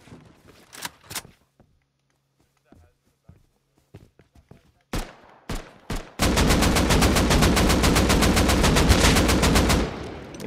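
Gunfire in the video game Rust on PS5: a few scattered shots and thuds, then a long rapid automatic burst of about four seconds, loud and close, with faint footsteps between.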